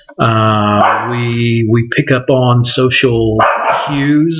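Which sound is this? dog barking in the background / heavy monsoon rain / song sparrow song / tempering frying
dog barking in the background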